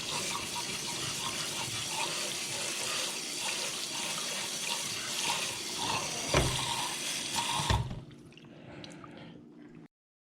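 Tap water runs steadily over freshly caught white bass in a sink, a continuous rinsing splash with a couple of squishy handling knocks near the end before the faucet shuts off.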